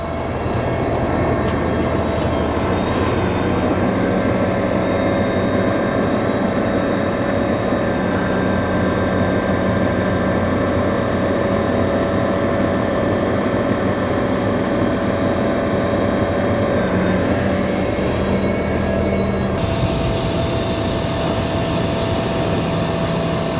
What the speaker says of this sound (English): At this point, Firefighter Visnot is going to raise the ladder.